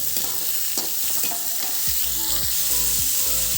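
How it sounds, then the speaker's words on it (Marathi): Ridge gourd sautéing in a hot pan with onion and turmeric for a quick Marathi dodka bhaji, loud steady sizzling with repeated scraping stirs of a spatula, close by, with a low hum below and no speech. "हे दोडका याच्यात टाकून त्याला चांगलं परतून घेते"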